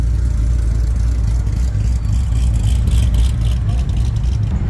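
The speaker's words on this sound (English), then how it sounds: "I spy another Corvette, Grand Sport, and red. Perfect. Chop, chop, chop, chop. It's got some chop" A red Corvette Grand Sport idles with a choppy, lumpy engine note at a night car meet, a steady low rumble close by with crowd noise and voices around it.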